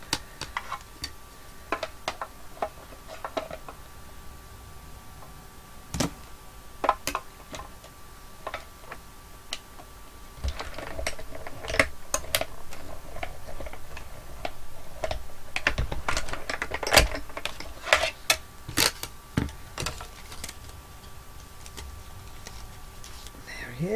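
Craft cutting machine working through a fox shape, with scattered sharp clicks and ticks over a quiet hum and occasional soft talk.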